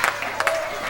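A loud wrestling crowd at an IWA show roars steadily, with bursts of cheering and clapping rising over a continuous wash of noise.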